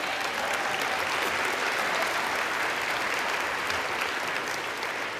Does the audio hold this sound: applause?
yes